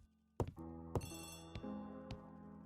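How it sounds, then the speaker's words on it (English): An old-style telephone bell rings indoors in a period murder-mystery drama. Four sharp, ringing bursts come about half a second apart, each leaving a bright metallic tone hanging between the strikes, with no talking. "telephone."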